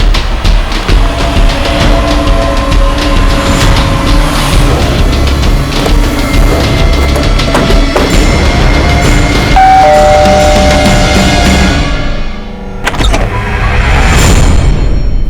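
A car being driven and turning left, steady engine and road rumble filling the cabin throughout with a brief dip near the end, no talking.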